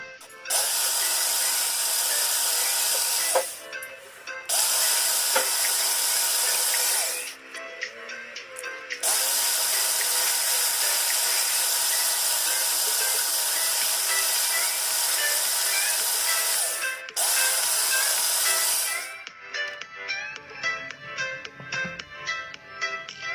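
A kitchen blender grinding spices with added water for spicy bacem fried chicken runs in long loud whirring stretches broken by brief stops, ending in a lighter rattling churn.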